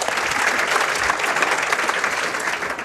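A live podcast audience applauds a guest with continuous, close, full clapping that stays loud and steady before tapering slightly at the end.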